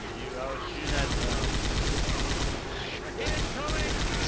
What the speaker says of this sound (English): Everybody's shooting at you.